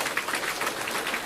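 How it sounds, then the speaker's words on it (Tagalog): Audience applause at a company business presentation, a dense steady wash of many hands clapping that fills the whole short moment with no talking over it. "Palakpak naman."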